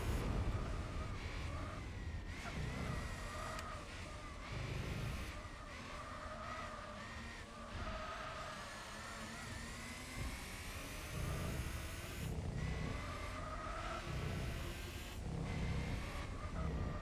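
A Nissan GT-R engine in the racing game Gran Turismo 4 drones steadily with rising and falling revs and gear changes, loud and continuous for the whole stretch, with no talking.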